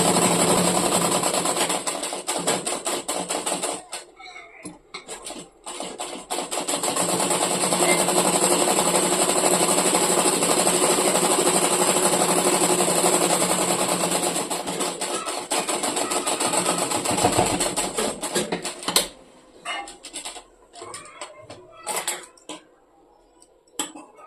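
A sewing machine stitching round a shirt cuff, a loud, fast, continuous mechanical whirring and clatter that runs in long bursts with brief stops, close by, slowing into short, broken runs near the end.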